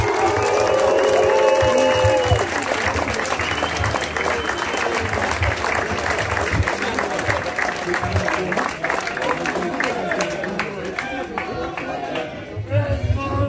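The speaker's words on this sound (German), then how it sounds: "Erstmal Applaus." Loud stadium crowd applause and cheering for the SV Waldhof Mannheim 2022/23 squad at a summer stadium festival team presentation, sustained dense clapping with shouts throughout, easing slightly toward the end.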